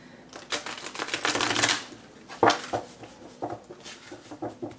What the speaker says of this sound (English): these cards are difficult for me to shuffle